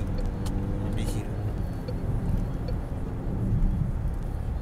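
Car engine and road rumble from inside a moving vehicle while another car is overtaken, a steady low drone with a faint rise, heard under talking.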